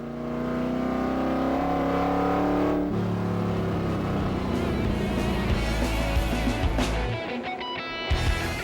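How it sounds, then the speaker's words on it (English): A Corvette V8 engine on the Tour Auto rally revs hard and loud nearby, pitch climbing through a gear then dropping to rough, rumbling acceleration before fading briefly and picking up again. "Luckily, the Corvette V8 engine is still raring to go."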